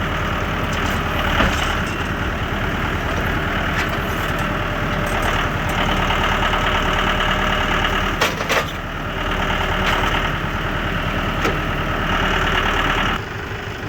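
A tractor engine idles nearby during log handling for a Woodmizer sawmill. It gives a steady, rattling, knocking drone that continues without a break, with a few brief clanks partway through.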